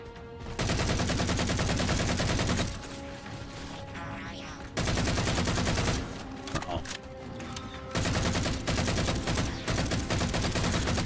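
Assault rifle fire on Legendary difficulty in Halo 4 crackles in loud, sustained bursts of rapid shots, broken by short lulls, with gameplay sounds between the bursts and a voice talking over parts of it.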